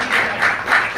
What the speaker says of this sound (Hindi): जोरदार ताली से भैया समझ के स्वागत करो